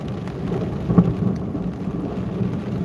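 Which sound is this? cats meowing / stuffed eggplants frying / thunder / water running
thunder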